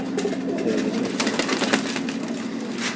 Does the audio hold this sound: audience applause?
no